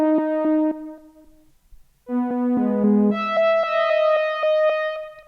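A synth lead from the Sky Keys Go Back preset plays a short phrase of bright, harmonically rich notes, pauses, then continues with new pitches, loud and clear without any voices.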